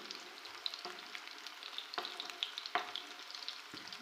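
Fish fillets coated in masala fry in a pan with a steady, close crackling sizzle, broken by sharper pops and a few light stirring or scraping knocks, with no talking.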